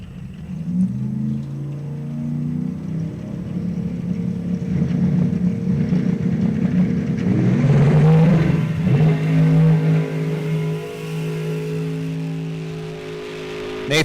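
Two drag racing cars, a 1967 Chevelle and a 1971 Nova, make an eighth-mile heads-up pass with a nitrous purge beforehand, their loud, sustained engine roar swelling in the middle and easing off toward the end.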